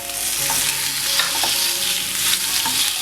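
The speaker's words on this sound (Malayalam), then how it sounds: "ബ്രൗൺ ആവുന്നത് വരെ ഒന്ന് വഴറ്റിയെടുക്കണം." Onion, garlic, ginger and tomato sautéing in a pan for a coriander and coconut chicken curry, a loud steady sizzle broken by stirring scrapes and clinks of a spoon, without talk.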